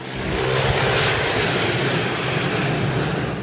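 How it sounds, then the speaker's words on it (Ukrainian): A plane attacks from the air in a classic Cary Grant film scene, its engine a loud, continuous droning roar that swells and holds steady throughout, with no speech. "героя Керрі Гранта атакує з повітря літак"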